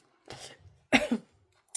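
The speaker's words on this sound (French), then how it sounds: "je pense que je commence à avoir la toux qui arrive" A person gives two short coughs about half a second apart, the second sharper and louder, followed by a brief faint throat sound, all close and with no talk.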